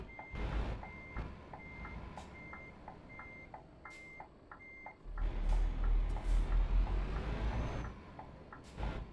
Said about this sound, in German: Dann muss ich mal besser rückwärts hier fahren.